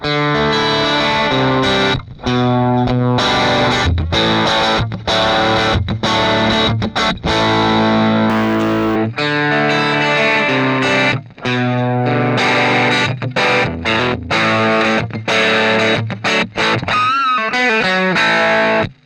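Harsh, fizzy distorted electric guitar played straight through a Shift Line Twin MkIIIS preamp without cabinet simulation, buzzy and thin with chord strums and short pauses, loud and continuous.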